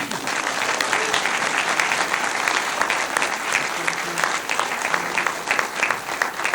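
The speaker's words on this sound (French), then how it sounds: "Un tonnerre d'applaudissements pour le jury." Sustained audience applause at an awards ceremony closing a film festival, dense and steady throughout with faint crowd murmur and no clear speech over it.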